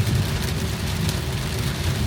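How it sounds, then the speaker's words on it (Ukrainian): Heavy rain pounds steadily on a moving car during a long drive in terrible weather, a dense continuous roar with road rumble underneath and no talking. "Великий падає дощ."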